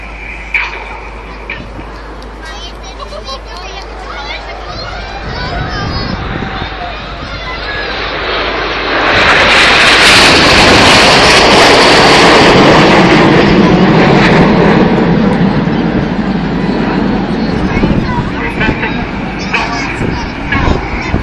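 The Phoenix display aircraft flies past at an air show. Its engine roar builds to a loud, broad rush that holds for several seconds, then eases off, under a commentator's voice.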